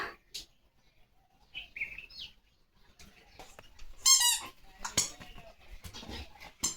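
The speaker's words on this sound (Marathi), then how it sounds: "तिकडं तिकडं बघ तिकडं तिकडं तिकडं दिसली चिमणी तुला" House sparrows chirp in a home courtyard: scattered, faint short calls, then a brighter burst of chirping about midway, with a few more scattered tweets after.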